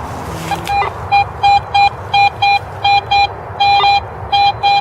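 A metal detector sweeping over a buried target gives a loud, close series of short electronic beeps in an uneven, stuttering rhythm, a dozen or so tones with a couple of longer ones, and no talk.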